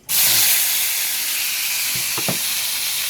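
Sinigang ingredients hit a hot pan and sauté with a loud, steady hiss and sizzle that holds through the whole stretch, with a couple of faint clinks near the end and no talking.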